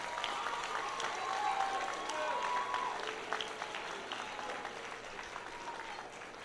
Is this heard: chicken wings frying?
no